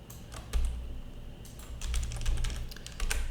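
Computer keyboard keys click close by while shortcuts are pressed in Blender, a few sharp taps followed by a quicker run of clustered keystrokes.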